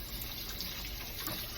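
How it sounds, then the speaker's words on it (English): Tap water running steadily while hands are washed in a kitchen during cooking, a continuous close splashing rush with no pauses and no speech. "I'm going to wash my hands real quick."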